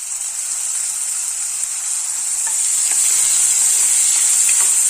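Chopped tomatoes going into sautéing onion and ginger-garlic paste for a soya chunk gravy, a steady bright sizzle and hiss from the pan that grows slightly louder, with faint stirring taps.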